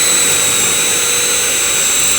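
A loud, steady high-pitched whine of a power drill running continuously through a door for a couple of seconds, close by.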